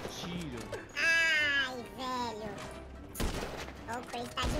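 Gunfire in GTA 5 crackles in quick bursts beneath excited young voices, with a sharper shot standing out near the end.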